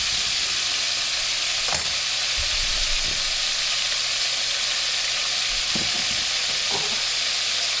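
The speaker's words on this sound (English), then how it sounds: "You want that beef to be sizzling" Steady, dense sizzling of beef frying in a hot pan for Mongolian beef, with a few soft clanks and scrapes of stirring now and then.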